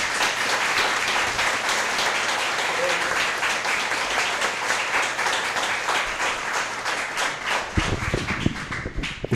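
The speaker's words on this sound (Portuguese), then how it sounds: "Ele merece uma salva de palmas." Church congregation applauding together during a worship service in Mogi das Cruzes, São Paulo, a dense steady wash of clapping throughout, with a few louder thumps and low rumbles near the end.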